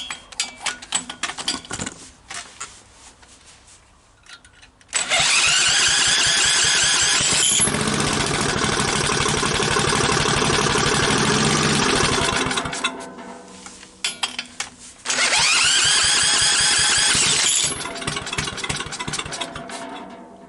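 Troy-Bilt tiller small engine with a rebuilt carburetor cranks, catches and runs loudly at a fast idle, drops back, then fires up and runs again, close by with no talking.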